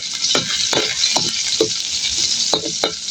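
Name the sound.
mung beans dish frying and splattering in pan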